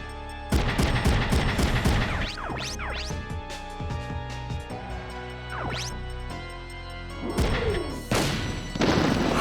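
Gunfire in the Front Mission 3 video game, with loud, sharp bursts of shots and crashing impacts that come in clusters, fall into quieter gaps, then return with heavy hits near the end.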